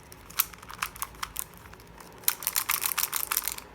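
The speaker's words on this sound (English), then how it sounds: "This is the GAN 24M version 2. It's really nice, but it has this clicking," A GAN 24M version 2 speed cube is turned in quick bursts, giving crisp, close plastic clicks and rattles in two irregular clusters with a short pause between them.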